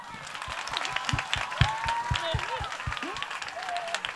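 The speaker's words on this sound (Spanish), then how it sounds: "Un aplauso Juana." An audience at a dance and theatre academy festival applauds with brisk, rhythmic clapping while voices call out over it, moderately loud and lively.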